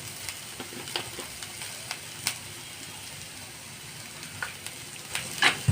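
Ingredients for masala Maggi frying in a pan, a faint steady sizzle punctuated by sharp clicks and pops, with a louder spatter near the end.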